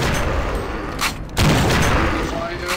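Dense, continuous gunfire from the video game Counter-Strike: Source in a zombie escape match, a loud sustained fusillade that briefly dips and then surges back harder.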